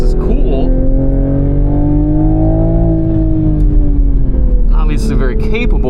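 Toyota GR Supra engine under performance driving, a steady droning hum with the pitch slowly rising then easing off, heard from inside the cabin with short bursts of other noise near the end.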